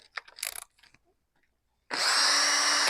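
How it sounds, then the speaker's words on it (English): A drill spins a plug inside a device to bore a hole in a piano pinblock, starting as a loud, steady, close whine after light handling clatter and a brief pause. "when I rotate this plug like that in a drill"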